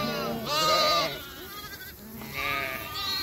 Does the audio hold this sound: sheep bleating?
yes